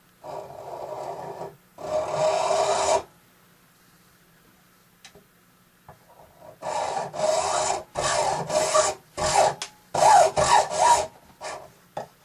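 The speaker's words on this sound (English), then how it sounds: "I'm going to use my hacksaw to cut that baby off" A hacksaw cuts a clamped firesteel rod in rasping bursts: one short run of strokes, a pause with faint ticks, then a series of quicker back-and-forth strokes, close and moderately loud, no talking.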